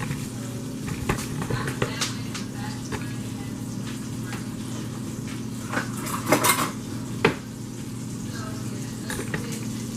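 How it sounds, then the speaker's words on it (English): A metal spatula scrapes and clinks across a hot pan as melted butter is spread around for a chicken stir fry, with scattered taps and a couple of louder knocks over a steady low hum. "I'm going to take the spatula and I like to just gently spread the butter around the hot pan"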